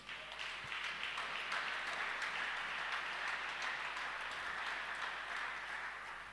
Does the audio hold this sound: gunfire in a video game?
no